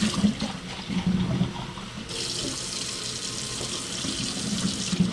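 Water runs from a tap and is poured slowly over a hedgehog during a bath in a sink, a steady close splashing that grows brighter and fuller partway through, with low knocking handling sounds beneath.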